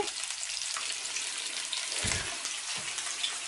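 Dorade fish sizzle steadily in a hot pan, a constant bright crackling hiss with a couple of soft low knocks partway through.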